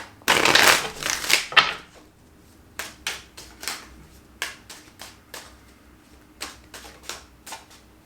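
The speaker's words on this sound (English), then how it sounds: "We're doing two more shuffles" A burst of riffling tarot card shuffles, then a series of quick, crisp card snaps and taps spaced irregularly, close and fairly loud, no talking.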